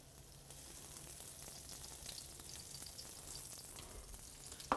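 Butter and oil sizzle in a pan with a steady, soft frying hiss that continues without a break, a few faint clicks and stirring noises on top, and no speech.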